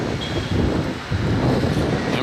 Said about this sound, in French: Il y a un petit peu de vent là.